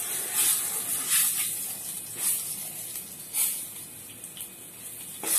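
Garam masala sizzles in hot oil tempering for a thin spinach and buttermilk dish, a steady hiss with soft swells of spitting throughout, no voices.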